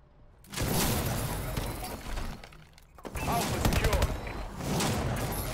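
Grenade blast in Call of Duty multiplayer: a loud, broad crashing burst with shattering debris, followed after a brief dip by another dense, rumbling explosive roar amid game noise.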